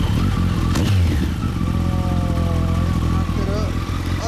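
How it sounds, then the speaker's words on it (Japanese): A 2016 Kawasaki Ninja ZX-14R sport motorcycle with a Scorpion exhaust runs loudly and close, with a quick blip at the start and then a steady rising and falling engine drone. People talk faintly underneath. "はい、エンジン音聞かせてもらう。"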